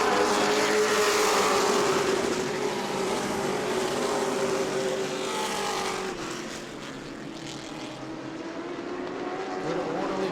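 Car number 9's race engine roars loud and close at New Smyrna Speedway during a Hoosier Series event, a steady high-revving snarl that eases slightly midway before building again, with no voices over it.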